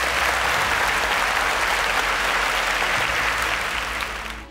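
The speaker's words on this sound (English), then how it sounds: "Round of applause for them." Loud, even applause from a studio audience on a quiz show, a dense uninterrupted patter of many hands that holds steady before fading at the end.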